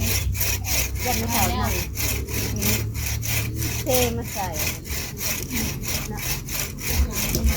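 A hand saw cuts through wood in steady rhythmic back-and-forth strokes, close and loud, while people talk quietly underneath.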